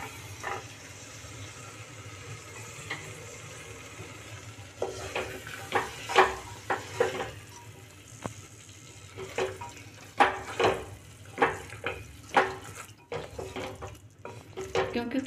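Fresh peas tossed into a pan of spiced oil and yogurt masala for a matar mushroom curry, giving a quiet, low-level sizzle with repeated scraping and stirring clatters.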